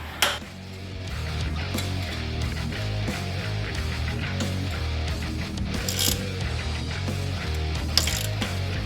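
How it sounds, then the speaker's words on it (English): A ratchet tightening bolts on a Yamaha YFZ450R quad during a build, rapid clicking pawl strokes in repeated bursts with metallic clinks, close and alone without speech. "Now you can go ahead and tighten all your bolts down"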